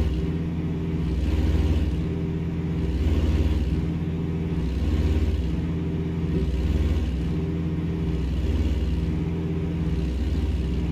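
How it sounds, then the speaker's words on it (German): An old-school truck engine in the driving game American Truck Simulator, a steady deep drone that rises and falls in slow, regular swells, loud and close with no talking. "ich mag halt den Sound hier auf America Truck Simulator, mag ich einfach den Sound"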